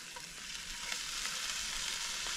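Marron, small freshwater crayfish, sizzle on a hot grill while being flipped. A steady, dense hiss and crackle of frying plays close and continuous, with faint clinks, and no voices.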